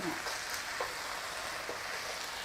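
Beef keema mince with frozen peas stirred in a hot pan, giving a steady, fairly loud sizzle and crackle with a few soft scrapes of the spoon, and no talking.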